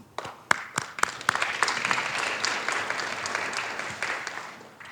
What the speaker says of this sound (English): I've always wanted to signal a group to clap by clapping first